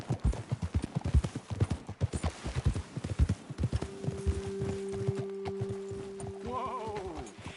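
Video game horse hooves in Red Dead: rapid clip-clop at a brisk pace, then slowing, followed by a horse's whinny near the end over a steady low tone.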